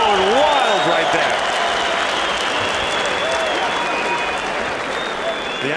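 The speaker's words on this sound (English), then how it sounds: "Crowd going wild right there." Crowd at an M-1 Challenge MMA fight cheers and applauds loudly and continuously after a flurry of strikes ends a round at the bell, with whistles and shouts over a dense roar.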